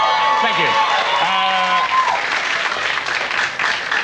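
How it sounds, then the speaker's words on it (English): A television talk show studio audience breaks into loud, continuous applause with some cheering, while voices sound over the clapping early on. "Please hold your applause until all the answers are concluded"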